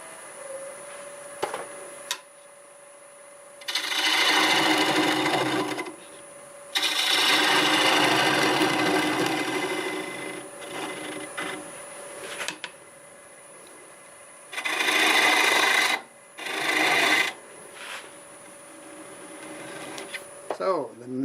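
Half-inch bowl gouge cutting black walnut on a wood lathe, heard in several loud bursts of scraping, hissing cuts separated by quieter stretches where a steady motor hum and whine continue.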